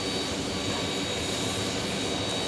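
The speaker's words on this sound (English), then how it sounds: "That's right, Texas Girl. The UPS 747." A UPS Boeing 747 jet at Phoenix Sky Harbor Airport, a steady, loud broadband engine roar with a thin high whine on top, constant throughout with no talking.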